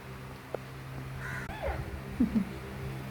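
A crow caws a few times outdoors, the harsh calls moderately close and rising over a low steady background hum, with a faint click earlier.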